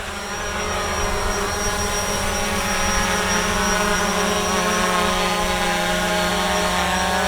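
A Fimi X8 SE drone lifts off near a reservoir. Its motors give a loud, steady, high-pitched whine with layered buzzing tones that hold constant. No one speaks.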